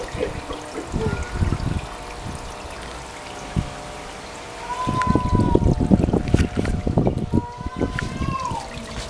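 Water splashing and trickling from a fountain in a backyard koi fishpond, a steady close wash of pouring water that grows busier and louder in the second half, with a faint voice underneath.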